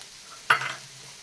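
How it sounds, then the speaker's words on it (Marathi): Onion frying in a little oil in a pan for a matar paneer masala, a short stir bringing a brief burst of sizzling that quickly settles to a soft hiss. "थोडंसं तेल टाकून कांदा गुलाबी रंगावर भाजून घेतलाय"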